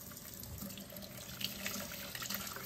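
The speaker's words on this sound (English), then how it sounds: "And now you rinse it in cold water?" Cold water runs steadily from a sink tap as ribbon is rinsed, a continuous close, even splashing hiss with no talking.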